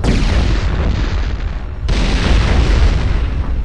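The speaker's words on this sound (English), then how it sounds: "I'm already getting shot at by one." A turret fires on the player in Turok 2, producing a continuous, loud, rumbling barrage of blasts with a brief dip midway before the heavy booming resumes.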